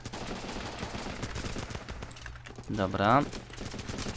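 Gunfire in the video game Running with Rifles, a steady rattle of shots running under a voice, with a brief spoken word near the end.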